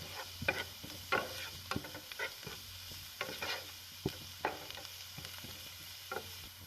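A filling of boiled shredded chicken is sautéed in a pan for chicken buns, with a low sizzle running throughout and a steady series of light scraping stirs every half second or so, fairly quiet and without talk.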